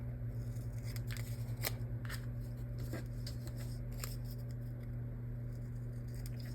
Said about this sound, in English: I'm going to take these other stickers and I'm going to trim off the rounded ends.